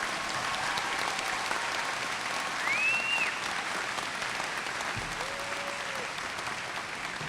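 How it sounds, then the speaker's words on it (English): Graduation audience applauding scholarship recipients and businesses at a high school commencement, a steady, dense wash of clapping from a large crowd that holds even throughout, with a faint whistle rising midway and a brief tone near the end. "Please give these scholarship recipients and businesses a round of applause."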